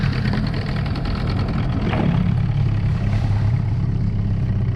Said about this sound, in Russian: Мотор уже я прогрел,